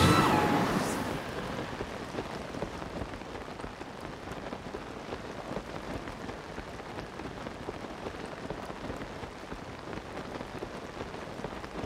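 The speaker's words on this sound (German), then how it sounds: "Und es regnet." Steady rain falls in the video game The Legend of Zelda: Tears of the Kingdom, a soft, even hiss of drops on surfaces that carries on unbroken, a little louder at the start and then settling into a constant patter.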